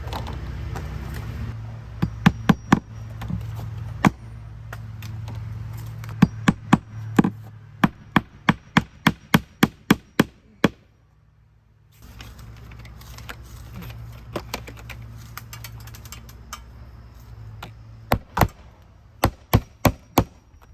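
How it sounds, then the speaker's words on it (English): Nails being driven into vinyl siding around a bathroom window, heard as sharp, evenly spaced hammer strikes in several quick runs, some clustered in rapid groups, fairly close with quiet pauses between. "Right where that groove goes horizontally, just nail it off just like that."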